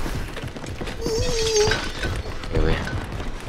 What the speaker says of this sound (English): Yo, they're breaking glass, dude.